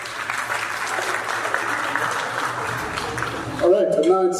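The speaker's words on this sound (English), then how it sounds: "Another round of applause for Jonas Wengel." Rotary district conference audience in Diani gives sustained applause for Jonas Wengel, a steady burst of many hands clapping that gives way at the end to a voice over the speakers.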